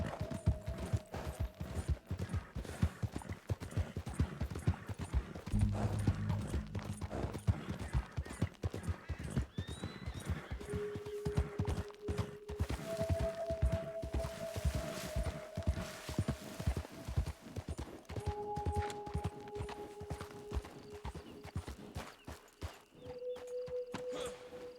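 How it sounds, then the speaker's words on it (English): Video game horse hooves clip-clopping in a steady walking rhythm, fairly quiet and continuous, with faint game tones and effects in the background. "Die perd is besig om dood te gaan of iets."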